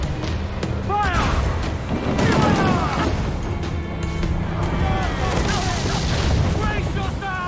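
Ship cannons booming in a naval battle in Assassin's Creed IV: Black Flag, heavy blasts rolling over a constant roar of sea and combat while crew voices shout over the din.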